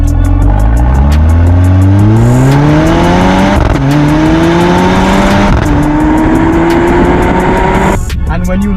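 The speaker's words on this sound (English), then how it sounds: "when you accelerate and you do an upshift, it snorts like a warthog" A 2020 Mercedes-AMG GLA45 four-cylinder turbo accelerating hard, its exhaust rising in pitch through several gears with distinct upshift breaks, loud and close throughout.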